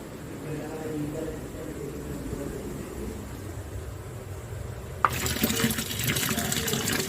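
Water trickles quietly into a container after cleaning, then a sudden louder gush of pouring takes over for the last two seconds, close and steady.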